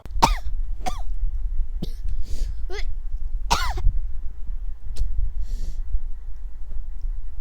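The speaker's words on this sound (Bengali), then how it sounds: "একটু কাশি দিলাম" Several sharp coughs and throat clearings, close and loud, spaced irregularly over a low background rumble.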